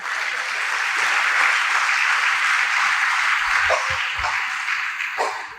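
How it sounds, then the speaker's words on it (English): An audience at an Indian Arrival Day program claps in a dense, steady round of applause that swells and then tapers off near the end, with a few sharper claps standing out. "Give him a round of applause."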